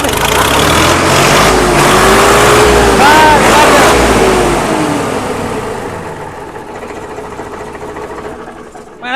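A top-model tractor with power steering runs loud and steady in a continuous engine rumble, with a brief rise in revs partway through before easing off. Someone speaks briefly over it.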